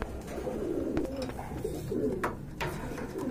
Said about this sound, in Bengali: খুবই সুন্দর একটা কবুতরের জোড়া যে দেখতে পাচ্ছেন